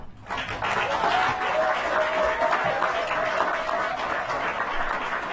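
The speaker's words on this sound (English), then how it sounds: "Applause for that." Steady applause from an audience fills a city council evening public hearing, holding at an even level for several seconds.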